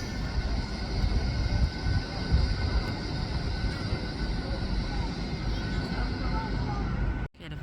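A Great Western Railway train pulls out of Newton Abbot station, its steady rumbling drone filling the platform for several seconds before cutting off abruptly.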